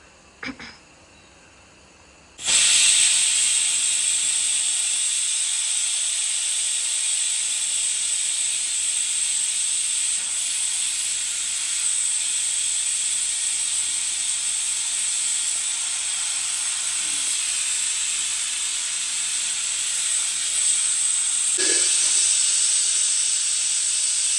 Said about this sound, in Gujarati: કુકરની સીટી વાગશે એટલે આપણે રાહ જોઈને ઊભું રહેવાનું છે.